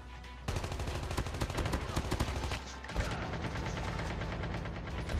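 Gunfire in the mobile game Call of Duty Mobile during a duo vs squads battle, with rapid bursts of automatic shots close up and fairly loud, continuing steadily for several seconds.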